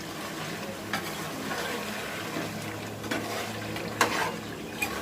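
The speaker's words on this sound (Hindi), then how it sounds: "अब हम इसे अच्छे से भूनेंगे" Chicken karahi stir-frying with spices in a wok, a continuous sizzle broken by occasional scrapes and clinks of a spatula against the pan.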